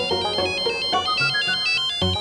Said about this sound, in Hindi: अरे पेरिस से फोन है।